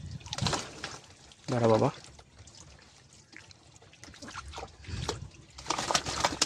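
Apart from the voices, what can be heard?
water poured over a pigeon being bathed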